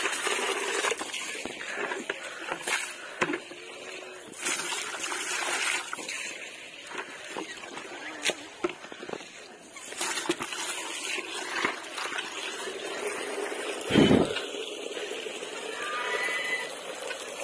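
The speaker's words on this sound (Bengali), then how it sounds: "এটা একটু জল পরিষ্কার করে দিই, পরিষ্কার জল দিয়ে দিই" Clean water is poured for caged pets, a soft trickle and splashing that comes and goes amid light handling clatter, with one louder splash near the end; quiet overall.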